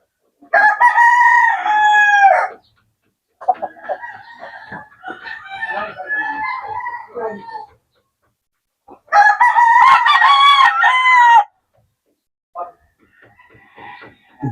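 A backyard fighting cock, a brood rooster, crows loudly and close in two long full crows several seconds apart, with shorter clucking calls and murmurs between them.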